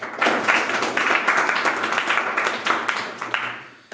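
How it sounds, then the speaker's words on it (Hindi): A classroom of students claps together in steady, dense applause for about four seconds, close and fairly loud, with no talking over it. "वेरी गुड, ताली बजाओ।"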